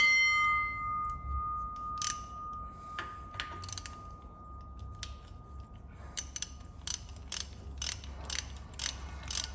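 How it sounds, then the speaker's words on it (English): Ratcheting clicks and metallic mechanical ticks as a winch is unbolted from a monster truck axle during servicing, coming in irregular bursts that grow denser toward the end over a low background hum. "and then we can take the winch off."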